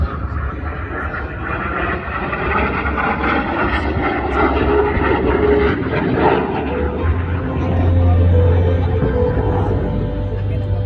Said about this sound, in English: this is the tail slide of Solo of Freccia Tricolori.